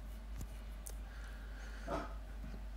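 Dogs bark a few times indoors at the mail carrier, with short, fairly faint yips and barks over a steady low background hum.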